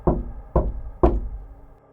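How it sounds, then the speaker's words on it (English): Three slow, deliberate knocks on a front door, evenly spaced about half a second apart, close and solid, each with a short hollow decay, with no voices. "3 slow, deliberate knocks at the front door."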